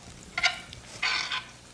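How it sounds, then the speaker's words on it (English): Steak fingers frying in a hot skillet give off short bursts of crackling sizzle, two distinct spurts of hissing spatter over a quiet background. "So then it starts frying."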